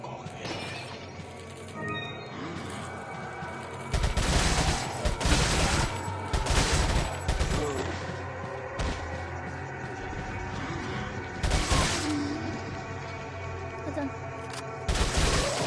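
TMP submachine gun fire in Resident Evil 4, dense bursts of rapid gunshots that start a few seconds in and keep recurring over constant game noise.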